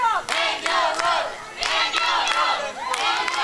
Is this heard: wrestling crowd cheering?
yes